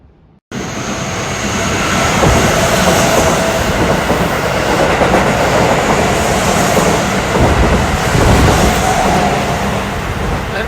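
A rapid train rushes through Fushimi-Momoyama station without stopping, a loud, close, continuous roar with rail clatter that swells and holds for about ten seconds.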